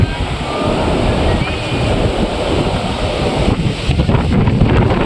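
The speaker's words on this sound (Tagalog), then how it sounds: "grabe, nakakatakot yung hangin doon" Strong storm wind at People's Park in the Sky roars and buffets the microphone continuously, a loud rushing noise with surf-like surges.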